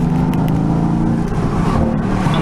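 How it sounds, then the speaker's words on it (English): Mercedes-AMG GT S in Sport Plus mode with the exhaust opened up, a loud, steady, deep engine drone heard up close from inside the car. "If I open into Sport Plus, I let the exhaust open up."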